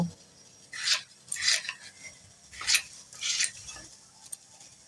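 A knife chops cauliflower into small pieces for vegetarian cauliflower paratha, with four or five crisp, close cutting strokes at an uneven pace and quiet gaps between them; no one talks.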